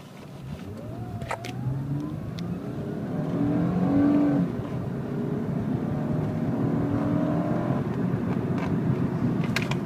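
A 2006 Acura TL pulls away from a standstill, engine note rising through the gears with smooth upshifts, heard from inside the cabin as a steady moderate drone with no talk.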